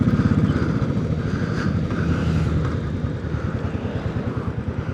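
A Royal Enfield Classic 500 motorcycle on a ride to Matlock Bath thumps along with a steady low single-cylinder exhaust beat, fairly close, with some wind rush over the microphone and no talking.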